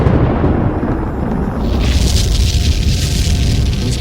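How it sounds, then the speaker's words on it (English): A volcanic cinder cone erupts, explosions hurling marble-sized debris high into the sky, as a loud, continuous deep roar with a rushing hiss that swells partway through. "Explosions rip from the cone, sending a hail of marble-sized debris miles into the sky."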